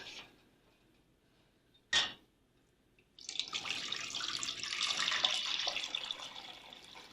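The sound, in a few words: pouring huckleberry juice into a saucepan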